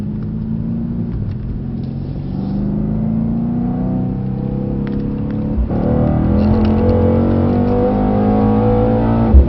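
A Mercedes-AMG C63 S accelerates hard on a race track, its engine note climbing steadily through the revs in a loud, continuous rumble that surges louder past the midpoint as the car powers on.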